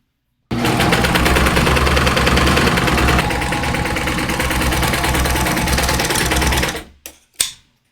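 A serger stitching a rolled hem runs loudly and steadily for about six seconds, a fast mechanical whir with rhythmic clatter, then stops with a couple of brief clicks afterward.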